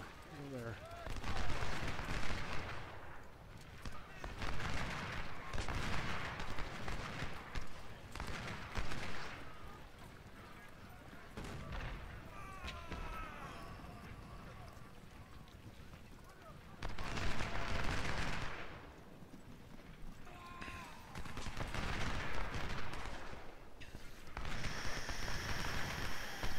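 Massed musket and artillery gunfire in the Civil War strategy game Ultimate General: Civil War, at the battle of First Bull Run, rolling in repeated loud volleys and crackling bursts with quieter stretches between, while a voice talks over it.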